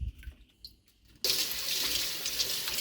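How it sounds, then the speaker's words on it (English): Strawberries rinsed in a salad spinner basket under running water: a steady, close rush of water starts abruptly partway through and continues to the end, with quiet handling noises before it. "I'm just going to use the basket from my salad spinner to rinse these"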